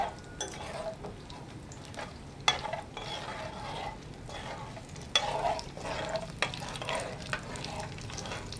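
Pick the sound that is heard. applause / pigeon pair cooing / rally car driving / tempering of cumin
tempering of cumin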